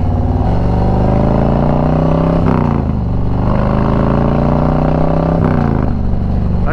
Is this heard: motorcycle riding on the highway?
yes